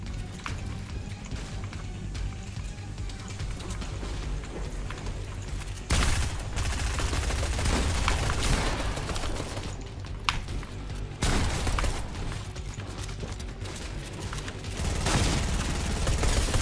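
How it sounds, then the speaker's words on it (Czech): Gunfire in a video game shooter: bursts of rapid, crackling shots repeat over a constant background of game noise, with a few louder volleys standing out. "Okej, po mě střílí ještě někdo další."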